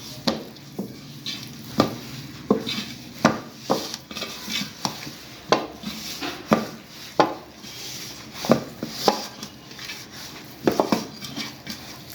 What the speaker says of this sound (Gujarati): હવે આને આપણે બધું મિક્સ કરી લઈએ.